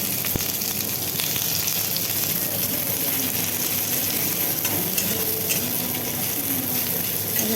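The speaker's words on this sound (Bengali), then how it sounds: "তারপর কুচানো পেঁয়াজ দিয়ে একটু ভাজা ভাজা করবো।" Chopped onions sizzle steadily in hot oil with cumin seeds, bay leaves and cloves in a pan, a dense continuous frying hiss broken by occasional scraping strokes of a spatula stirring close by.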